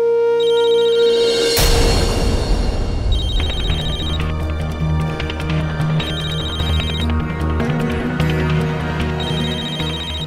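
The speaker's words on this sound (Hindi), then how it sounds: "वही तुम्हें बार बार फोन कर रहा है ना?" A telephone rings repeatedly, loud and close, its electronic bell tone recurring in a steady pattern over a background music bed with no one speaking.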